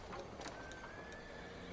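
A horse whinnies in the game Red Dead Redemption 2, a faint high neigh partly masked by a dense, noisy outdoor background with hoof clatter.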